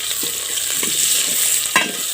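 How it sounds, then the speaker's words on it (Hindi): Tomatoes and onions frying in a pan and stirred, a steady close sizzle broken by several scraping strokes of the spoon, one sharper near the end; no talking. "अब इसको अच्छी तरह से चलाएंगे।"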